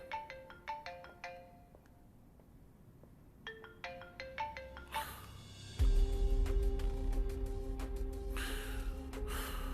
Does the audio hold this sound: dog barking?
no